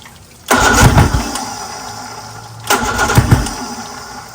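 A homemade race outboard motor cranks and catches twice, each attempt a loud sputtering burst that fades into a rough, uneven run.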